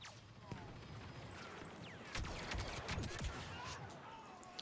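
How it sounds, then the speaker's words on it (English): Sustained rapid blaster fire from a Star Wars Battlefront II Supremacy battle, dense overlapping shots and impacts rolling steadily with a heavier burst midway, loud and close. "Just trying to get some suppressing fire."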